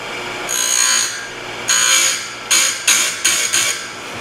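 A Stihl USG chainsaw sharpener grinds chain teeth in a long raspy pass, another long pass, then three short quick bursts, loud and close with no talking.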